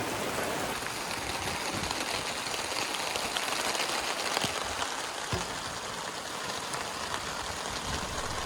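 Heavy rain pours down in a steady, dense hiss that holds constant throughout, with no voices, during a storm with warnings of flash floods.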